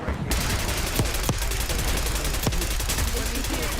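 Rapid video game gunfire with sharp repeated shots and bursts over a constant dense battle din, with a voice talking faintly underneath.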